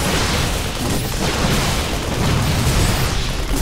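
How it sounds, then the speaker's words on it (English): StarCraft battle with a turret being destroyed, dense rumbling explosions and booming bursts layered over continuous weapons fire, loud and unbroken throughout. "The new turret is being destroyed."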